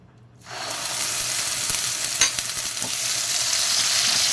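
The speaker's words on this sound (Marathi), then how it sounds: "तेल घातलेलं आहे पॅनमध्ये तर त्याच्यामध्ये आता हा मसाला घालते" Spice masala for a fish curry dropped into hot oil in a pan, bursting into a loud, sudden sizzle after a brief quiet moment, then hissing steadily and close with no talking.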